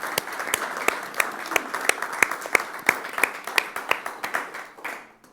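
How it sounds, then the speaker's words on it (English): Conference audience applauding steadily for about five seconds, a dense wash of many hands with sharper individual claps standing out, fading slightly at the end. "Let's give that an applause"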